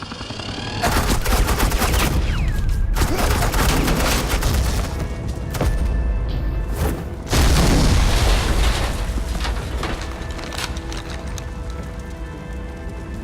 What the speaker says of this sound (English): This is Agent Quinn, suppressing fire.